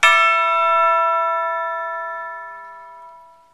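Orchestral chimes struck at an angle give a single clear, bright metallic strike that rings on with a long, smooth decay over several seconds, heard alone.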